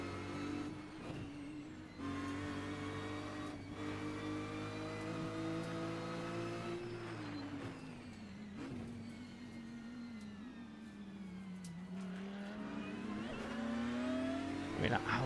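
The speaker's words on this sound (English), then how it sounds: "I mean, that Audi sounds mega." An Audi race car engine in a racing video game, revving steadily through the gears with rising and falling pitch, continuous and close, while someone talks over it.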